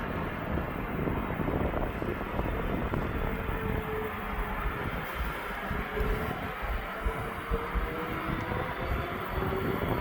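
A DHL cargo aircraft at East Midlands Airport produces a steady, broad jet roar with wind buffeting the microphone for the whole stretch, and no voices.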